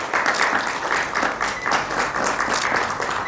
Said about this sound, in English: Please give a round of applause for the winner.